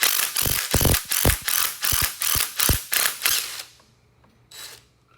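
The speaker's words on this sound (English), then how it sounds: "ratchet just to make sure they were going to come out of there" A ratchet loosens old bolts on a Farmall F20 tractor in a steady run of about ten close, loud clicking strokes, then stops, followed by a brief faint scrape.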